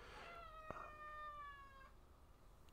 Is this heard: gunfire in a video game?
no